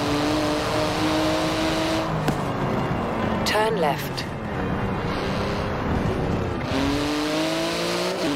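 Porsche-style 3.8-litre flat-six twin-turbo engine of about 700 horsepower, driven in Forza Horizon 4, drones steadily with rising and falling rev sweeps, close and loud, under a voice giving navigation directions.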